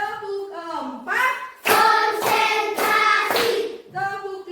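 Children in a classroom clap their hands in rhythm during a counting clapping game, the sharp claps falling in short bursts between sung, chant-like voices.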